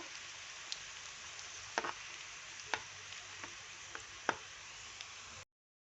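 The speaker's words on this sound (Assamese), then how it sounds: "এতিয়া মই ইয়াতে কাটি থোৱা নিমকিকেইটা ভাজি ল'ম" Nimki pieces deep-frying in hot oil, giving a soft, steady crackling hiss with a few sharper pops scattered through; fairly quiet and close, with no voices.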